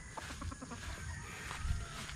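Roosters and hens cluck in short, repeated calls at feeding time on a farm with about eighty birds, moderately close over a steady background.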